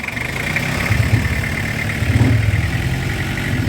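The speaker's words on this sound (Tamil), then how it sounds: "இப்போ இன்ஜின் நாய்ஸ் பாருங்கள்" A Toyota Qualis diesel engine idling close by after an oil, filter and radiator water change, a steady low clatter and hum with a faint rhythmic knock, swelling slightly twice.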